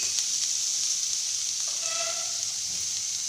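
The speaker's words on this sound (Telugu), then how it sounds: "అందులోనే కొద్దిగా కరేపాకు వేసి వేయించుకోవాలి ఇందులోకి కాస్త ఉప్పు వేసుకొని" Curry leaves and salt fry in a pan with a steady, close, hissing sizzle that holds evenly throughout, with a few faint higher tones near the middle.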